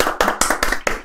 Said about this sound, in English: Applause for the old man.